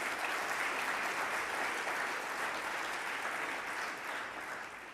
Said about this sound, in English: Please, a round of applause from Walmart